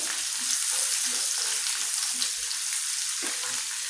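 Green onion and curry leaves fry in hot oil for a mash daal, giving a constant loud close sizzle with soft stirring movements underneath, with no voices.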